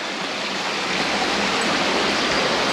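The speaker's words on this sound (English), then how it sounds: "water splits just there, see? And it goes off under the bridge." Stream water splits and flows under a bridge by an old mill, a steady broadband rushing and gurgling that stays close and constant throughout with no talk over it.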